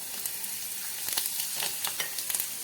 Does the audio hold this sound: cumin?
yes